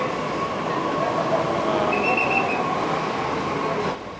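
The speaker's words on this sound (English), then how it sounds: "so we have a train every 2 minutes" Delhi Metro train running in a busy city, a steady loud rolling rumble with a faint high wheel squeal in the middle, continuous for several seconds before easing off at the end.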